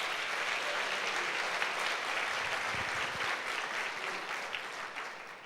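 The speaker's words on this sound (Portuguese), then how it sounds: "Então dê um aplauso ao Senhor." Church congregation at a Sunday service breaking into loud, sustained applause, many hands clapping together with faint cheering mixed in, tapering slightly toward the end.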